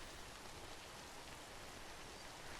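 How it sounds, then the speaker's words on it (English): Steady rain pours down in Death Stranding, an even, faint, unbroken hiss with no other sounds. "there's nothing I can do other than wait out the rain"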